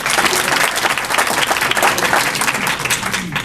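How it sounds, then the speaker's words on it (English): A summit crowd gives loud, dense, sustained applause that fills the room evenly for several seconds with no talk over it. "We should hear some clapping for that."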